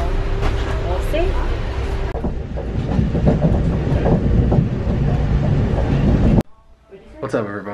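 Train ride in Paris from the airport, with a continuous rumble and clickety-clack of the rail car heard from inside, people chatting over it before it cuts to a quieter scene.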